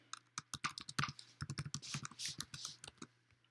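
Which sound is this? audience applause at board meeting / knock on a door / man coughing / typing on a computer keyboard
typing on a computer keyboard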